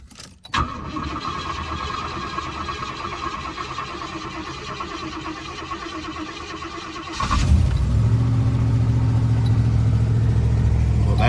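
A 1980 Cadillac Coupe Deville cranks and fires up after a carburetor swap, the loud engine catching at about seven seconds and settling into a steady, deep running rumble close by, with no talk.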